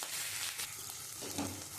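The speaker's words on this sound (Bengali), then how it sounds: "আমি এই তেলের মধ্যে গোটা গরম মশলা দিয়ে দিচ্ছি।" Whole spices with garlic and ginger paste frying in hot oil in a pan, a steady close sizzle with a soft crackle throughout, brief and without any voices.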